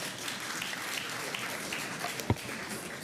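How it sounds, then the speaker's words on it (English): Members applaud in Parliament during the Eswatini budget speech, a soft, diffuse patter of clapping heard from some distance, with one sharper clap or knock standing out near the end. "There is no clapping of hands in Parliament."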